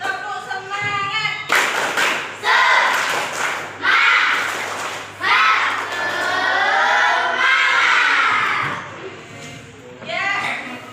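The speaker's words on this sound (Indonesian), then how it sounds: "Coba tepuk semangat." Schoolchildren perform the rhythmic 'tepuk semangat' clapping cheer in early-learning class, bursts of patterned claps mixed with loud shouted chanting from young voices.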